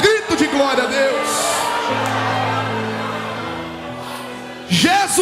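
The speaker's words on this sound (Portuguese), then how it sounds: "levante a sua mão e dê um grito de glória a Deus" A church congregation shouts and cheers glory to God during a Portuguese-language worship service, a loud sustained crowd roar with whoops that swells, holds, then fades before a fresh burst of shouting at the end.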